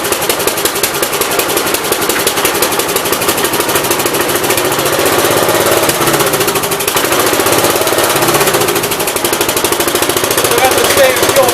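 A swapped-in engine on a 1969 Gravely 432 garden tractor, with a fuel problem, runs loudly and steadily with a rapid knocking chug, close by, throughout.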